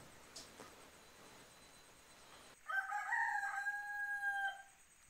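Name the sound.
rooster crowing at dawn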